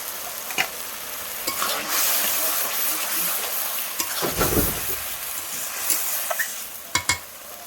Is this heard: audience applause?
no